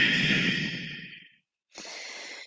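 During a yoga exercise, a close, breathy exhale about a second long fades to silence and is followed by a quieter rush of breath.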